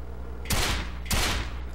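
Two loud gunshot bursts from the Quantum of Solace PS2 video game, each a sharp blast with a short rumbling tail, about half a second apart, over a low steady game hum.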